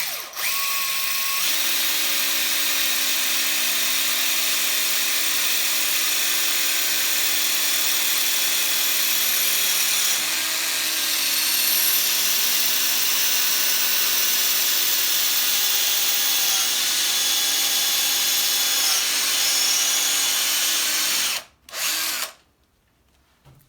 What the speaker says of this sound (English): you'll hear the drill bit going through the surface of the tile